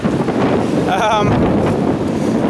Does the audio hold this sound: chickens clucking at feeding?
no